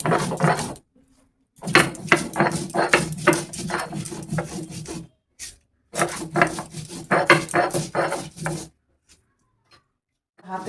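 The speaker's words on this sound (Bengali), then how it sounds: "মশলাটা বেটে নিচ্ছি" Green chillies, ginger and spices ground by hand on a stone for a rohu fish dish, a steady, close rubbing rasp in long rhythmic bursts separated by brief pauses.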